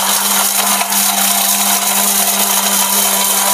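An Orpat electric blender runs steadily at close range, a loud continuous motor whine with a constant buzzing hum and no pauses or talk.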